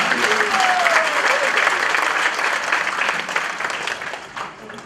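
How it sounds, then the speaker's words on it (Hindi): An audience applauds at a religious discourse in a temple, dense steady clapping from many hands that fades slightly toward the end. "पहले उनको मैं साधुवाद देता हूं और जोरदार तालियों से हम।"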